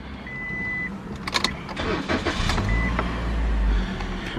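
Engine of a 2016 Toyota Corolla XEI 2.0 flex automatic starting up, a brief crank and catch that settles into a low, steady idle close by with some interior clicks and chimes, no talk.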